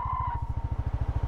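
A Yamaha PG-1 motorcycle ridden on a trail, its single-cylinder engine thumping in a fast, even pulse close to the rider, with a faint whine fading early and no talking.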